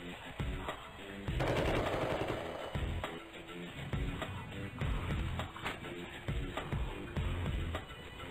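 Rapid automatic gunshots in the Flash game Sift Heads 2, loud repeated bursts of fire running through most of the stretch with overlapping game music and effects.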